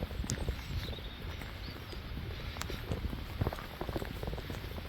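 Steady rain falling on a wet morning around a reservoir and boathouse area, a continuous dense patter of drops close by with scattered louder splashes throughout.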